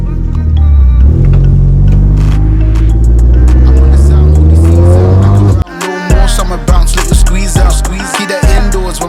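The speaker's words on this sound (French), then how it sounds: "J'en profitais pour faire chauffer un petit peu la voiture." Renault Mégane 3 RS Trophy engine warming up, loud and close, a rising rev followed by a sharp cut and a series of short punchy throttle blips.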